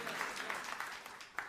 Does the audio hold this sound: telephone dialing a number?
no